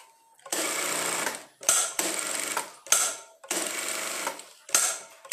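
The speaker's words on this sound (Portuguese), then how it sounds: "Vamos lá fazer a costura aqui, depois a gente rebaixa do outro lado" A sewing machine stitches a seam on a fabric necessaire box bag, running in four steady whirring bursts of about a second each, separated by brief pauses, loud and close with no talking.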